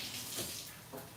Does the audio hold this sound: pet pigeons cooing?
no